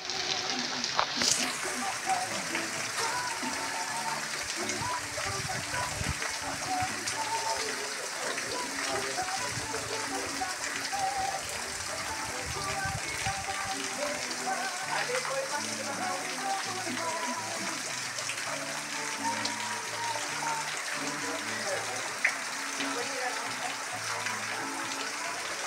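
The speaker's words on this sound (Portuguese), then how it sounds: "Chuva, menino." Heavy rain pours steadily in the sertão of northeastern Brazil, a dense unbroken hiss of drops drumming on surfaces that holds level throughout, with a brief voice near the start.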